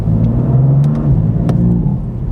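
BMW M4 CS engine droning steadily under load while driving, a low sustained tone that shifts pitch once midway, heard from inside the car with no talk.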